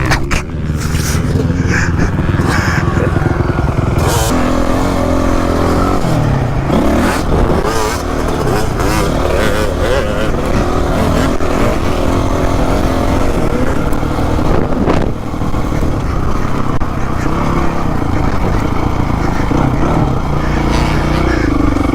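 A Honda CRF 450 dirt bike engine revs loudly and close, rising and falling throughout with heavy wind buffeting, and a voice breaks in briefly.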